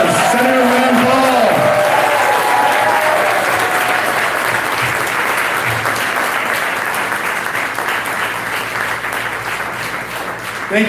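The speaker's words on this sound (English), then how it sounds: "let's give him another resounding round of applause" A large crowd at a campaign rally for Senator Rand Paul and Cameron Hamilton's District 7 congressional race applauds loudly and continuously for about eleven seconds, dense clapping that slowly tapers.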